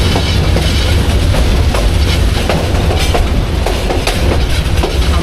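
The Parabat Express rumbles steadily along the Dhaka to Sylhet line, loud and continuous, with rhythmic clickety-clack of wheels over rail joints heard from inside the carriage.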